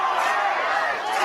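Steady broad roar of a large homecoming night crowd at a high school football stadium, a distant continuous murmur with a voice talking over it.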